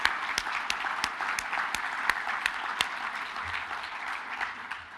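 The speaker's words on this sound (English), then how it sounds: "everybody should give a round of applause to Dwayne and all the work he's been doing" A conference keynote audience claps steadily for several seconds, a dense wash of many hands with a few crisp individual claps standing out, and no talking over it.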